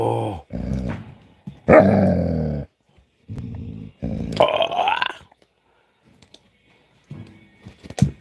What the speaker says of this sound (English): The pup is playing tug of war with me.